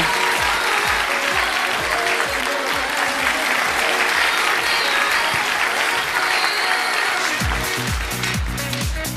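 Audience applause fills a gala concert hall after a festive folk dance performance at a youth song marathon, dense steady clapping throughout with a few rhythmic low thumps and a slight surge near the end.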